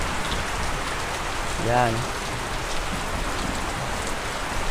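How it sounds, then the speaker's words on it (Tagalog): Heavy typhoon rain pours steadily behind a house in Bicol, a dense continuous hiss with a brief spoken word rising over it midway. "Grabe yung ulan."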